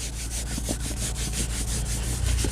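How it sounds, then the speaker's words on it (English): A small brush scrubs a car's interior surface in fast, steady back-and-forth strokes, making a continuous rhythmic rubbing hiss close by, with no one talking. "Scrub this"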